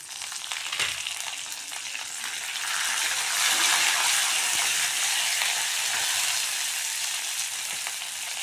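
Curry leaves dropped into hot oil hiss and crackle with a bright, steady sizzle that swells after a moment and stays loud and close.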